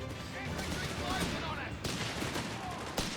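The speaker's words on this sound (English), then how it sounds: "Enemy rifle! They're having a go! Shit! Enemy fire!" Enemy rifle fire crackles in a Company of Heroes 3 battle, a dense run of shots and distant bursts under a voice shouting over the fight.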